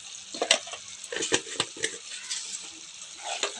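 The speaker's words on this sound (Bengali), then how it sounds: "দশ মিনিট তো কষতে হবে মানে যতক্ষণ না তেলটা পুরোপুরি ছেড়ে যাচ্ছে" Mushroom masala sautéing in oil in a pan for butter mushroom, with stirring scrapes, sharp clinks of a utensil and a soft sizzle, close and moderately loud, with no talking.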